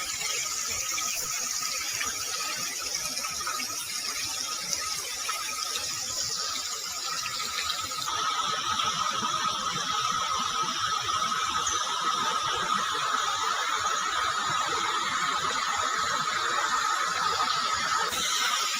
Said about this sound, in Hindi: यही वो पानी आ रहा है, जो धारा निकल रही है वही ऐसे आ करके और यहाँ से बाहर पानी जा रहा है।